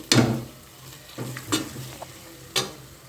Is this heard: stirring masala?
yes